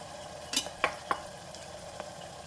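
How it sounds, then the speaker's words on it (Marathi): Ginger, garlic, coriander and chili paste sautés in a pan while a spoon stirs it, giving a few soft scraping knocks over a steady low sizzle. "ही देखील मी परतून घेते।"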